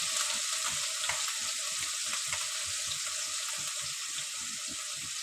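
Chopped onion and onion-garlic paste sizzle in hot oil with an even, hissing fry and soft rhythmic scraping from stirring, steady and close throughout.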